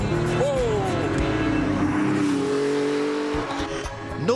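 A Magnus Walker Porsche 911 STR restomod drives hard on a mountain pass. Its loud engine revs close up, with the pitch climbing and falling through the gears and a brief dip as it lifts off.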